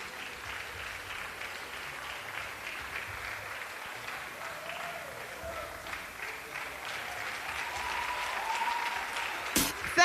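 An audience at an award ceremony claps in sustained, dense applause for several seconds as a presenter comes on stage, swelling slightly near the end with a sharp knock.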